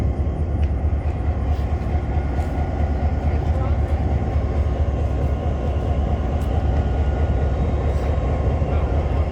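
A heavy, steady rumble of a French Lick Railway locomotive engine running nearby, deep and continuous with a faint hiss of background noise.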